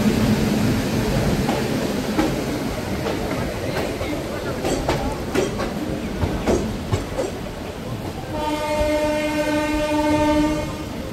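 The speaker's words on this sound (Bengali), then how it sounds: "এই আমাদের ট্রেন ছেড়ে দিয়েছে।" The Kolkata to Digha special passenger train pulls away and runs, with a steady rumble and rhythmic wheel clicks, then a long loud horn blast near the end.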